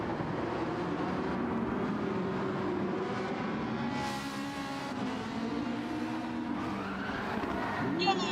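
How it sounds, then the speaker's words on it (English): Racing car engines in Gran Turismo 7 at Yas Marina drone continuously with a brief high tyre squeal partway through, fairly quiet and mixed with distant game sound. "I heard the squeal of tyres there."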